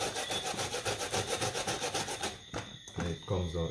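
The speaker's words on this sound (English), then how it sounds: "so we will grate the coconut, or if you wish, you can blend" Coconut grated by hand for a sweet potato pudding gives a loud, close, rhythmic rasping, quick regular strokes for several seconds before slowing into a few irregular scrapes.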